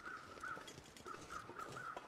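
Crows caw repeatedly in the video game The Long Dark as birds take flight, several rapid harsh calls at a moderate distance over a rushing wind-like ambience.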